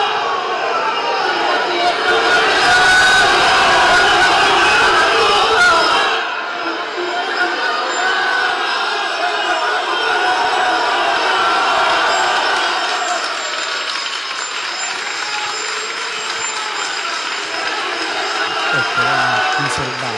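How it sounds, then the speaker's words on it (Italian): A crowd at the Basilica joins in loud, continuous invocations during the San Sebastiano feast, a dense wash of voices and cheering that drops slightly partway through and carries on steadily to the end. "sentiamo ancora le invocazioni che viene dalla Basilica"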